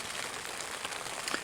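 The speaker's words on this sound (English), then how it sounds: "So the rain has never stopped" Rain falls on a tent in the Scottish Highlands, a dense, even patter of drops hissing steadily and close with no pauses.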